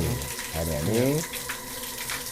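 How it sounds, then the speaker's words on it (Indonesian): Spring water pouring steadily from a spout fed by bamboo roots outdoors, a continuous splashing trickle at moderate level with brief tonal voice-like sounds near the start. "ya ini dari akar-akar pohon bambu sepertinya airnya ini"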